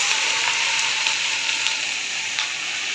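Fish sizzles and fries steadily in hot mustard oil, a close, continuous crackling hiss with small pops and no talking.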